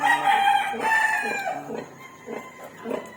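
A hen in her coop gives a long drawn-out call followed by a run of short, close clucks, loud and clear with no talking.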